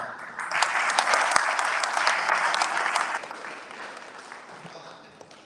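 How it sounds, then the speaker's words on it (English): Audience applause for family members and coaches at a South Florida athletic awards event, a loud burst of clapping that swells early and gradually tapers off, with some voices mixed in. "you all need to give a round of applause to all the family members, the coaches, the people who support you"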